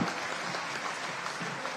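Loud, enthusiastic clapping from an audience at a Jain Panchkalyanak ceremony address in Singoli, a brief, dense burst of many hands that stays strong throughout.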